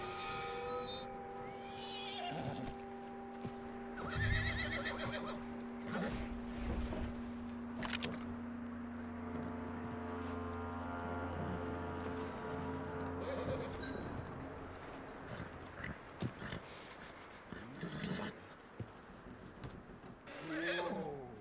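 A horse whinnies and snorts amid hoof clip-clops in Red Dead Redemption 2, layered over steady droning background music and ambient game sounds.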